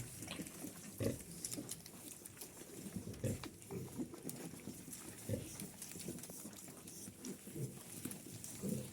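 Piglets grunt and snuffle close by in a pigsty in quick, irregular bursts, with soft shuffling and rustling movement underneath.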